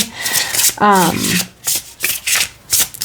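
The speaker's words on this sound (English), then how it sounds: "I feel like shuffling on camera is always a bit tricky" Tarot cards being shuffled by hand, with a run of crisp riffling and rubbing strokes, including one sharp bridging flutter, close and alone.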